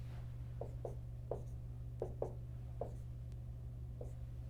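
Marker or chalk writing on a board during a math lecture, a series of short soft scratchy strokes in uneven rhythm over a steady low room hum, with no talking.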